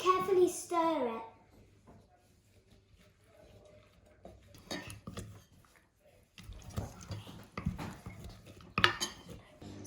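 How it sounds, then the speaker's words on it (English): A spoon stirs a mixture in a bowl at a children's cooking activity, giving soft intermittent clinks and scrapes, with someone talking at the start and quieter clatter and stirring later. "Now we're going to carefully stir it."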